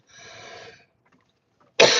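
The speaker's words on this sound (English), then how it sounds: "And you'll probably be hearing me cough a lot." A trucker coughs twice inside his truck cab on the road, a rough burst near the start and a sharp, loud one at the end, with a quiet pause between.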